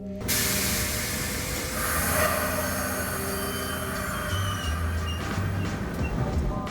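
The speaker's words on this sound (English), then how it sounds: "I cannot explain how much I love the air brake release sound on the 12s." A sharp burst of hissing air as an MBTA Type 12 subway train's air brakes release, over the rumble and whine of the car, fading into steady rolling noise.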